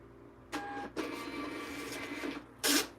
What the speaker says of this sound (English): Do you want to print with the new cutoff date?